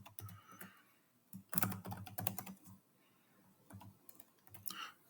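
Quiet, close clicking of keys on a computer keyboard as a password is typed, irregular clusters of taps with short pauses between them.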